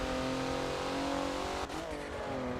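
A race car engine holds a steady high-revving drone while lapping Road Atlanta in Forza, with a brief dip and shift around the middle before climbing again.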